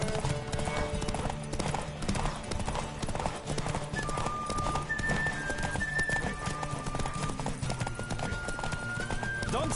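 A horse gallops in the video game Witcher 3, fast, loud, continuous clip-clop hoofbeats with a couple of whinnies, driving and close throughout, with no talk over it.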